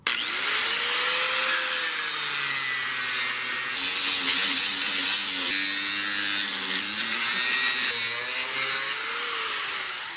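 A saw grinds steadily through the hard plastic case of a car battery, a continuous loud rasping with a droning whine that shifts slightly in pitch.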